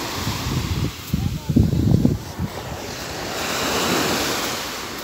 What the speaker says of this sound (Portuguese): Já já vem uma onda e acaba com isso aqui.